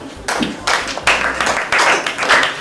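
An audience claps for the winners at a prize-giving, steady applause in several loud bursts that rise and fall.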